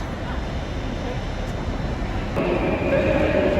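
Steady rumble of an Avanti train rolling by at close range in Liverpool, growing slightly louder toward the end, with a faint high squeal near the finish.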